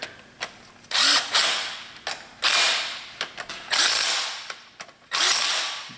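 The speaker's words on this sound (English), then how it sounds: "I'm just going to run it down with my little impact gun" A small impact gun runs down bolts on a Honda S2000 during transmission removal, firing in several short bursts of loud rattling hammering separated by brief pauses, close by.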